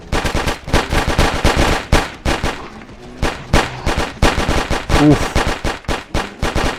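Rapid automatic Kalashnikov rifle fire in Fallout 4 on a shooting range, with loud, dense bursts of shots in quick succession, a short lull midway, then more sustained fire.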